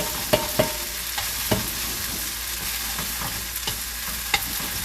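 Korean glass noodles (dangmyeon) frying in a pan for japchae, a steady dry sizzle with scattered crackling pops and occasional stirring clicks, close and even throughout.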